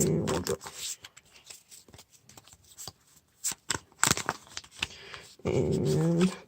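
Playing cards are riffled and shuffled close up in scattered bursts of flicking and snapping, ending in a longer rustle.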